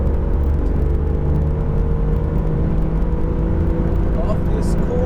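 Alfa Romeo Giulia GTAm driven flat out through a long left turn on track, a loud, continuous engine drone and road rumble heard from inside the cabin with no change in pace.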